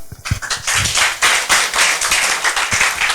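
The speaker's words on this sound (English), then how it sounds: "Shall we clap?" Hands clap in quick, irregular bursts from a group of people at a workplace health screening, with a dense, lively patter lasting the whole moment and no talk.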